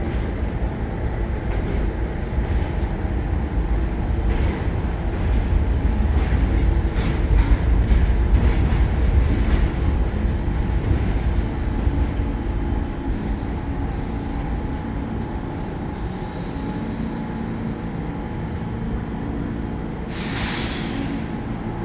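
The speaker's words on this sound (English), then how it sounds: "Here goes the W train." A New York City subway W train pulls out of the Astoria–Ditmars Blvd terminal, its rumble and wheel clatter loudest early on, then fading as it departs, with a hiss of air brakes near the end.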